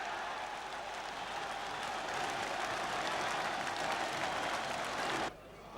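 Football crowd at a Portsmouth match, a broad, steady roar of cheering and clapping from a large stadium audience that holds, then drops off abruptly near the end.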